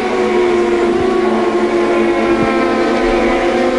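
Two SEAT touring cars racing in the 2005 WTCC round at Istanbul, their engines a steady loud drone with layered tonal harmonics, sustained throughout without clear pass-by peaks.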